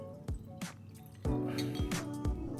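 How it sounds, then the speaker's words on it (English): Laphroaig cask strength whisky poured generously into a glass, with a few close liquid drips and splashes and a soft clink, ending in a steadier trickling pour. "that's a really healthy pour"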